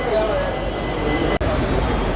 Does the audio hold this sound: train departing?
yes